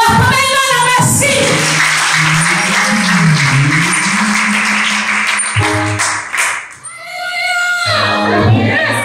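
A church congregation at a worship service claps in a dense, sustained burst of applause, framed by sung or spoken voices before and after.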